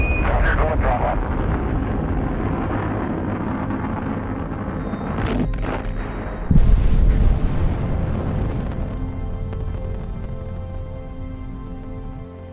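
Space Shuttle Challenger launch and breakup: a loud, continuous rocket roar fills the air throughout, with a sudden harsh boom-like surge partway through before the rumble carries on, likely with voices underneath.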